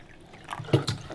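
Kangen water poured onto a thirsty houseplant, a short close trickle with a couple of soft splashy drips near the end.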